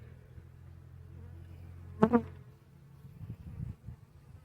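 A single short burst of honeybee buzzing passes close by, loud for a moment, over a quiet low hum, from a hive frame with many drones.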